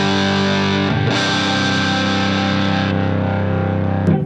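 Electric guitar played straight into a Silktone 12w KT66 amp with no pedal, giving a loud, sustained overdriven chord that rings on for several seconds before a short new attack near the end.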